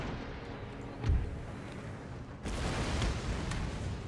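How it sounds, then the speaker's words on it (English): Artillery fires during an Empire Total War battle: two heavy, muffled booms a second or so apart, the second rolling into a sustained rumble of battle noise. "Let's pick this artillery unit to keep firing at the breach."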